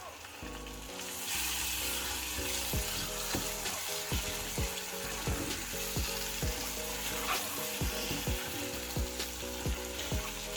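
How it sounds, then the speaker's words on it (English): Steady sizzling of a rohu fish head frying in a pan with chopped mint leaves, with a rhythmic, tonal backing running underneath throughout. "we're going to let that sizzle away for about 5 minutes"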